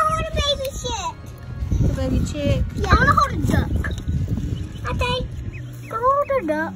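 Baby chicks cheep with high, repeated chirps among small ducks in a box, heard close under a steady stream of family and child chatter.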